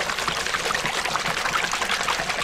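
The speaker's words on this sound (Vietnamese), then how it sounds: "nào mình rửa em xe ben nào" Steady rushing pour of water splashing over a toy dump truck being washed, continuous and close with no pauses or talk.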